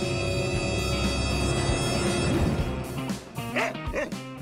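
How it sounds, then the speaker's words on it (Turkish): A dog gives a few yapping barks and whimpers in the final second or two, after a stretch of loud layered music and background noise, close and fairly clear. "Ne? Bir köpek mi?"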